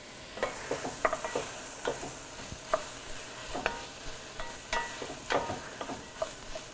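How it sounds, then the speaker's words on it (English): Celery and other vegetables sauté in rendered pancetta fat, a soft steady sizzle broken by repeated scraping stirs of a spoon against the pan, fairly quiet with no talking. "I want to saute this just a little more before I add just a little bit of stock"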